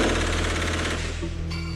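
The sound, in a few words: rifle gunfire in bursts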